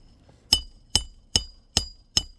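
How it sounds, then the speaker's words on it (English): Hammer striking a nail into roof shingles, five sharp, evenly spaced metallic blows close by with a slight ringing tone, no talking. "Start that nail, and then hammer it flush."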